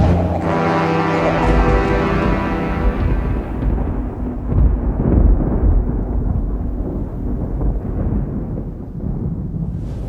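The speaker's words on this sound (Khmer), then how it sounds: "រន្ទះបាញ់ក្ដុងក្ដាំង" Deep, rolling thunder used as a film sound effect in a fantasy movie, a loud sustained low rumble with bright crackling onset that slowly fades over about ten seconds, no voices.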